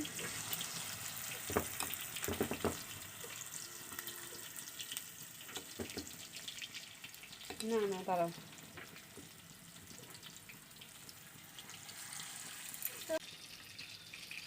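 Chicken pakora frying in oil in a wok, a steady crackling sizzle running throughout, with a voice speaking briefly over it and occasional clatters of a utensil.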